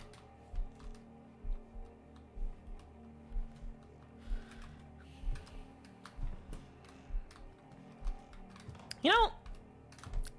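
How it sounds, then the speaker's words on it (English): A computer keyboard is tapped in short, regular bursts of soft clicks, close and fairly quiet, with a brief spoken interjection near the end. "I wonder how loud my keyboard is"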